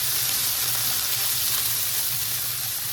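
Zucchini fries in avocado oil in a pan over medium heat, a steady close sizzle and crackle with a constant hiss throughout.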